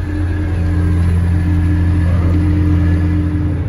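A digger's engine working dry pasture ground planted with radish and turnip cover crops, a loud steady mid-pitched rumble droning continuously and close without a break.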